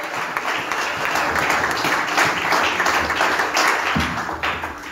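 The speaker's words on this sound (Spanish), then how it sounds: "Así que denle palmas al Señor" A church congregation claps together during worship, a loud, thick wash of many hands sustained throughout, with some taps and a low thump near the end.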